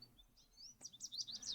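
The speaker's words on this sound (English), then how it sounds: "There's birds outside." Small birds chirp and tweet outdoors, thin high calls that are faint at first and then come in a quick, brighter run of repeated notes against a quiet background.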